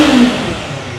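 Kawasaki Eliminator 450 motorcycle engine revving up close, a loud throaty burst that peaks early and then settles into a steadier idle rumble.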